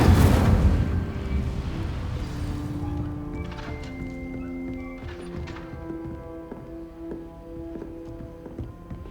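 The Incendio fire spell cast in the video game Hogwarts Legacy, a loud whooshing burst that roars up at once, then fades into a softer rumbling tail with faint tonal shimmer and light knocks.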